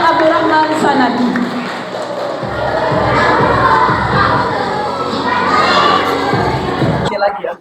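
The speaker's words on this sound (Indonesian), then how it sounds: "Beri aplaus untuk Abang Abdurrahman Sanaki." A school audience of children at an elementary storytelling contest claps and cheers loudly for several seconds, a dense crowd of shouts and applause close at hand that cuts off abruptly at the end.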